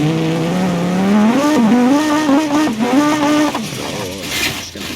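A race car engine in BeamNG.drive, version 0.19, revs close and loud, its pitch climbing and wavering as it accelerates, then cuts off with some tyre and road noise trailing after.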